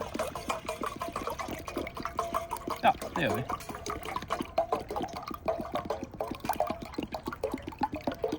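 Water poured into a twig burner kettle to fill it, a splashing, gurgling stream running steadily while someone speaks Norwegian over it.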